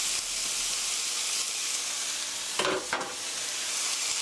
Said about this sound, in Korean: 이렇게 넣어서 스터 프라이 5미닛 5분 정도 볶아주세요